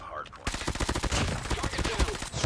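Automatic fire from an OTs 9 SMG in Call of Duty Mobile, a fast, continuous stream of close, punchy shots that runs for over two seconds with only short breaks.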